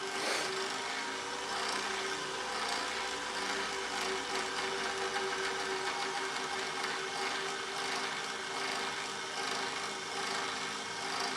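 A wood lathe spins a resin pen blank with a steady, even whir and faint rubbing hiss that holds constant for the whole stretch, moderately quiet and with no talking.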